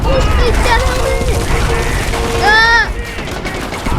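Bursts of gunfire in a civil war battle in the game Far Cry 4, loud rapid shots and crashes with a sweeping whine near the middle, mixed with game effects.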